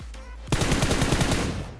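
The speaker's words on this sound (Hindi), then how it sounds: "और अब पीछे से भी चल चुकी हैं गोलियां" Rapid automatic gunfire from a battle royale video game at a military base, a tight burst of evenly spaced shots that fires up sharply and sounds fairly close and loud.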